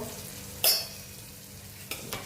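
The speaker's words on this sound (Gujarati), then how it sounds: "થોડો ફ્રાય થવા દઈશું" Food frying in a pan gives a low, steady sizzle close by, with one sharp clatter early on and two lighter knocks near the end, and no voices.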